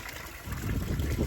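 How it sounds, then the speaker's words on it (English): Water splashes and trickles into a garden fish pond, a soft continuous gush that swells slightly louder toward the end, heard close with no talking. "I love the sound of the water."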